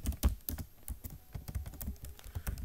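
Rapid typing on a computer keyboard while writing C++ code, with irregular bursts of close, crisp key clicks and heavier thumps, no talking.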